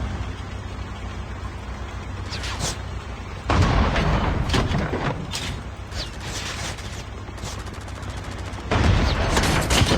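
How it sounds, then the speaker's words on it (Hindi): Tank cannon shells firing in Call of Duty Mobile ground war, heavy booming blasts with dense gunfire and battle noise running throughout, two especially loud bursts standing out, no talking. "एक गोला, दूसरा गोला, और यहाँ पे बहुत ही भयंकर लड़ाई होती है।"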